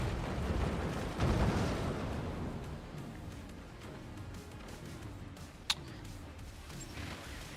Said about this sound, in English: Those nukes did pretty good damage.